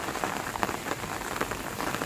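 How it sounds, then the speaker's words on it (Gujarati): Continuous rain falling in Rajkot, a steady close patter of drops on surfaces with no pauses or voices. "બહુ વરસાદની આગાહી છે, સતત આજે 3જો દિવસ છે, ત્યારનો ચાલુ જ છે 3 દિવસથી।"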